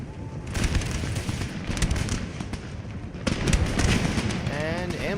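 Ragged infantry musket volleys crackle and pop in Empire: Total War, a dense burst of shots over about three seconds, then a second louder volley, with battle noise underneath.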